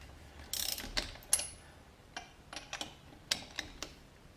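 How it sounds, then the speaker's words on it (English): Torque wrench with a 19mm socket breaking loose the lug nuts on a 1995 Pontiac Firebird wheel, giving a series of sharp ratcheting clicks and metallic snaps in short bursts, close and fairly quiet with no talking. "I'm using my torque wrench improperly to remove these nuts"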